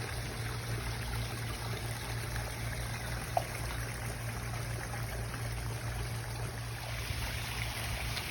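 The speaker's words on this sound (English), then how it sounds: "you can see there's just a little trickle coming out of the hose there" Water trickling from a garden hose into a backyard koi pond, a soft steady stream of splashing and gurgling that carries on evenly under a low background hum.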